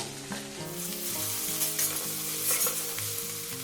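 Onion and green chili sizzle and fry in a hot pan, a steady close crackle with stirring scrapes running throughout, while soft background music plays underneath.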